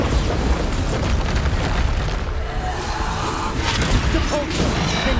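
Bombarda spell explosions in Hogwarts Legacy roar through a fight, heavy booming blasts with crashing, crackling debris, near and loud, mixed with other spell and combat sounds.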